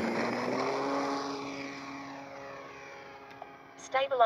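An FMS Ranger 1800mm RC airplane flies past, its electric motor and propeller making a steady buzzing drone that slowly fades into the distance, followed by a few brief scuffs and knocks nearby.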